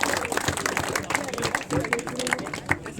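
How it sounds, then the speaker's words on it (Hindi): An audience at a cricket tournament event claps to welcome the sound system provider, a dense burst of applause close by that holds for a few seconds with a loose, uneven rhythm. "जोरदार तालियों के स्वागत"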